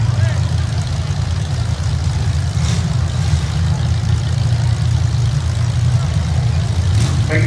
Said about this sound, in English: Corey Moses out of Plainsburg, driving a Ford Thunderbird.